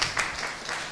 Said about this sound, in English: let's give a clap to